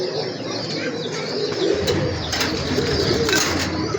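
Pigeons cooing at a pigeon seller's stall in Dhaka, soft repeated coos with some chirps and wing flutters nearby under a busy background murmur.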